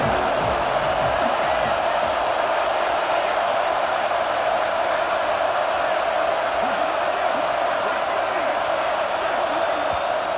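Stadium crowd noise in EA Sports College Football 26, a steady dense roar of cheering fans filling the whole stretch at constant loudness, with no clear breaks or peaks.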